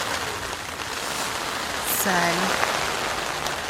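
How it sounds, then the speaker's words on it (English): Heavy rain at a festival campsite pours steadily onto a tent, a close, dense hiss throughout, with a brief spoken word and a few faint background tones. "Listen to that rain."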